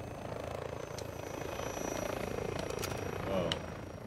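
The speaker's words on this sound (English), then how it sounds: "The helicopter just landed on me." Helicopter in Modern Warfare II online multiplayer, a steady rotor whir and engine hum sitting fairly low in the game mix, with a short swell near the end and a voice speaking over it.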